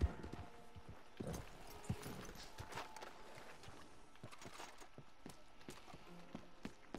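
Horse hooves clip-clopping at a walk in the video game Red Dead Redemption 2, a steady uneven patter of hoofbeats with faint background ambience, no talk.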